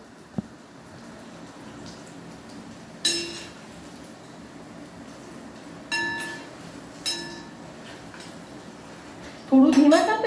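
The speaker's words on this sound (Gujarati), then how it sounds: "તમે ચમચો ફેરવશો ને એટલે તમને અવાજ આવશે એમ કે એકદમ ક્રિસ્પી થઈ ગયું" Metal spoon scraping and clinking against a pan while crispy poha snacks are fried, a few sharp separate clanks spread through a quiet kitchen, the loudest burst of stirring at the end.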